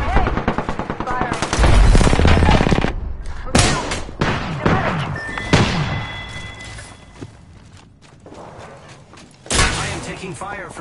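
Rapid Apex Legends gunfire, with loud bursts of automatic shots and heavy thumps, comes in clusters separated by brief pauses and mixes with voices talking throughout.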